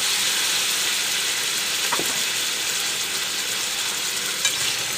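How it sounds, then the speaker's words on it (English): Vegetables fry in a pan with a steady, loud broadband sizzle and hiss throughout, broken by a single faint stir or clink near the middle. "So I can now put in the vegetables. And let that cook a little bit."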